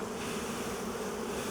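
Honey bees in an open hive during checkerboarding frame work make a dense, steady buzz, close and unbroken, with no voices.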